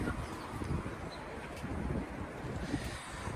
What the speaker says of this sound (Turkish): Bak rüzgar esiyor soğuk.